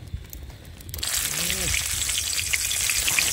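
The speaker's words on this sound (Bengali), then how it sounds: "আমাদের বেগুন ভাজা হচ্ছে প্রায় শেষের পথেই" Eggplant slices frying in hot oil in a wok at an outdoor jungle picnic, a loud steady sizzle that bursts in after a quiet start and continues without break.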